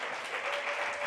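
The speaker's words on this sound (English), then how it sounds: "let's give a round of applause to the panelists" Steady, dense applause from a conference audience for panelists at the Rwanda Internet Governance Forum 2023, sustained and even throughout the short moment with no voices standing out.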